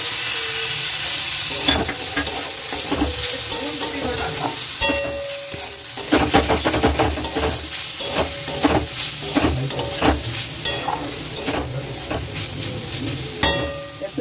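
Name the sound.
chopped garlic and onion frying in a pan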